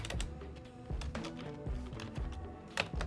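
Fast typing on a computer keyboard while entering data into accounting software: a quick run of crisp key clicks in uneven bursts, close and clear, with no talking.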